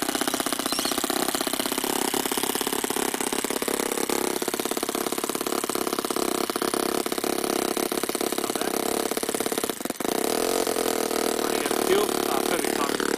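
A real four-stroke engine in an RC buggy idles steadily and loudly up close, a continuous buzzing drone with one brief dip near the end.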